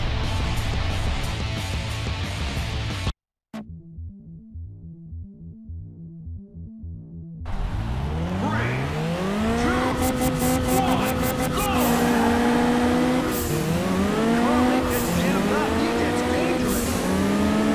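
Race car engines from the Juiced 2 racing game rev and howl with rising and falling pitch sweeps through gear changes, loud and continuous, after a brief cut to silence and a quieter stretch with a lower droning tone.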